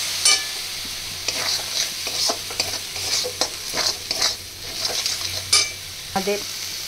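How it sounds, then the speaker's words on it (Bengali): A soaked paste of chilli, turmeric and cumin powder sizzles loudly as it fries in a pan, broken by repeated scraping and clinking strokes of a spoon against the metal as it is stirred. "এবারে দিয়ে দেব লঙ্কা, হলুদ আর জিরে গুঁড়ো ভিজিয়ে রাখা, দিয়ে কষতে থাকবো"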